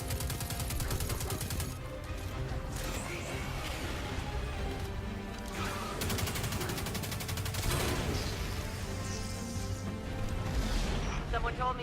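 Gunfire rattles in quick bursts and fusillades while enemies are shot in the video game Destiny 2, loud and repeated across the whole stretch over a dense game soundtrack.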